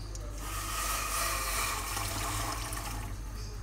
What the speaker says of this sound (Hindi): फिर इसमें हम जो है वो ठंडा पानी ऐड करेंगे